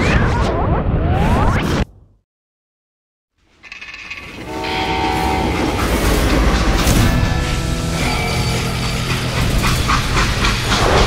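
A train rumbles and clatters loudly in the Western video game Call of Juarez: Gunslinger, opening with a horn-like blast, then a sudden cut to silence before the heavy rolling roar returns and continues steadily.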